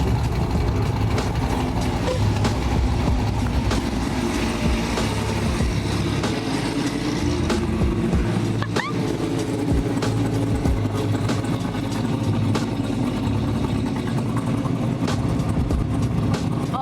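Corvette V8 fitted with a stage 2 cam running near the shop, a continuous deep lumpy idle with steady low rumble and occasional light blips, loud and close, no talking.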